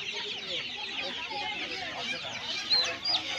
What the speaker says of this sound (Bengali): তো বন্ধুরা দেখুন এখানে অস্ট্রেলিয়ান বা ক্রয়লার মুরগি রয়েছে,